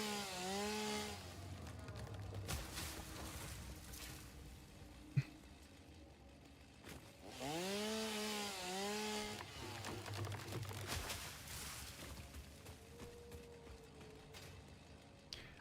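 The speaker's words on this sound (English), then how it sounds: "I'm gonna grab my chainsaw." Chainsaw in a factory-building video game revs in two long whining bursts with idling between, fairly faint and steady.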